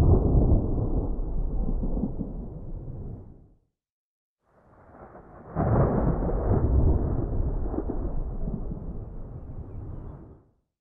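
Synthesized thunder from a Padshop 2 preset plays as two long, deep rumbling swells separated by a short silence, the second one rising with a stronger roll, with no speech.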